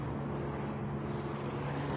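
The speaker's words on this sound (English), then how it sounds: "Helicopters flying over the area." Helicopters flying over an outdoor area, a steady low droning rotor hum with a strong continuous low tone, held at an even level throughout without talk.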